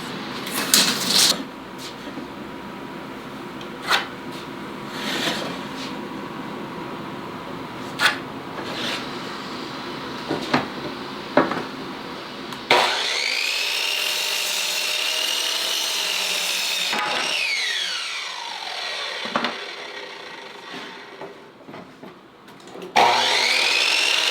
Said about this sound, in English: Then we're going to cut them on the miter saw.